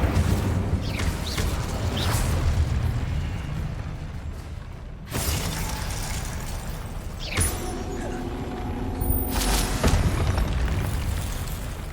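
Repeated fiery spell blasts and bursts from the Incendio casting in Hogwarts Legacy on PS5, several loud whooshing booms spaced a few seconds apart over game ambience and mechanical clatter.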